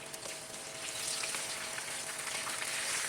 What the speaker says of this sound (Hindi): तो मछली जो है बेसन में डालेंगे, डिप करेंगे और फिर ऑयल में डाल देंगे।